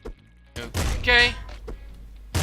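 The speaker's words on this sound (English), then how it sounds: "That was a toxic launcher there, in case you didn't notice." A toxic launcher fires in Nuclear Throne, giving a few short thumping bursts with a brief hissing, whistling release between them, separated by quiet gaps.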